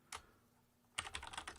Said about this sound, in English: I'm just typing in some gobbledygook to give us some context here